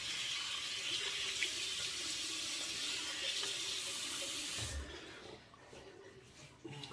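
Tap water runs steadily into a sink as a face is wetted before a shave with a safety razor, a broad continuous splash that stops abruptly near the end, leaving a quiet room.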